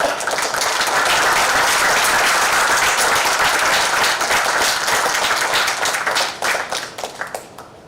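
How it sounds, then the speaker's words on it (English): A crowd at a 25th-year college class reunion claps loudly for their teachers, a dense, sustained wash of applause that thins into a few last scattered claps near the end. "And a big clap for them."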